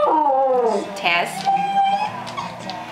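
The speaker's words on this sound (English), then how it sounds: "What's that dog doing, Mags?" A dog howls in a long, wavering, rising-and-falling cry, then breaks into shorter whimpers and yips. The sound is close and loud, and people talk and call out around it.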